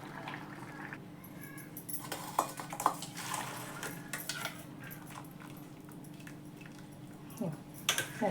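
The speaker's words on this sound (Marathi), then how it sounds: "तर आता काढून घेते मी, हे नितळून घेते." Boiled pigeon peas, chickpeas and peanuts being drained, soft scattered clinks of utensil on pot and light wet squishes, faint and close with no talking.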